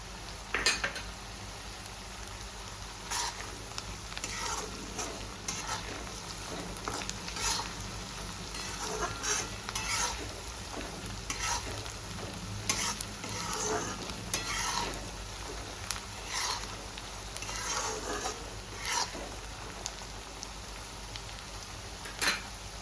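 Cumin seeds sizzle steadily in hot oil in a pan for prawn masala, with a continuous frying hiss, occasional stirring scrapes and light clinks of a utensil against the pan throughout.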